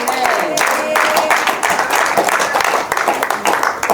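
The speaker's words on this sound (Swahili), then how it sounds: "Pigia Yesu makofi" Church congregation clapping hands during a Sunday prayer service, rhythmic dense clapping from many people in a hall, with voices mixed in underneath.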